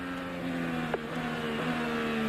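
An IndyCar engine heard from onboard during the 2017 Detroit race holds a steady, fairly quiet high drone, with one brief pitch blip midway before it settles back into a constant tone.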